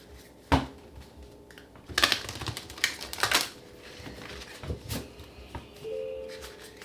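Tarot cards are shuffled by hand up close, a few sharp riffling bursts and soft clicks spread across a quiet room.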